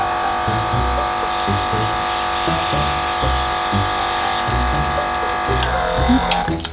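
An Aeroblend Deluxe 2.0 airbrush makeup device sprays with a steady, close electric motor buzz that holds evenly throughout, over faint rhythmic low thumps.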